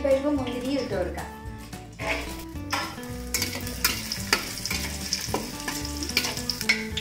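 Cashews and raisins fry in hot oil in a pan for Kerala-style chicken biryani, giving a steady close sizzle with stirring scrapes, partly masked by background music.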